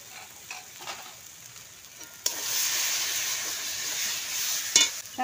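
Chicken curry with cumin and coriander powder and a little sugar cooks in a pan: quiet at first, then a sudden loud sizzle bursts up and holds steady, with a brief clatter near the end.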